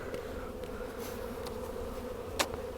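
Honey bees in a winter hive after a hard freeze, crowded on a feeding patty, give a steady, close, low buzzing drone with a brief sharper rise near the end.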